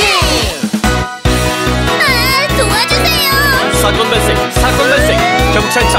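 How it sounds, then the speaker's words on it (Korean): A siren-like wail rises and falls over a bouncy musical backing with a thumping beat, as in a children's song about a police car. "사건 발생! 경찰차 출동!"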